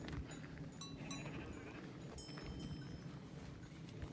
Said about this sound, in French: Oh mince, des moutons sur le chemin.